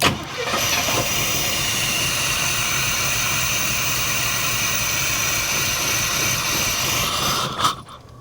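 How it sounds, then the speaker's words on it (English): A 1989 Pontiac Firebird Formula that has sat for 17 years cranks over on its starter, a sustained, even churning drone that runs for several seconds and then cuts off abruptly near the end, with no one talking. "Let me crank it over."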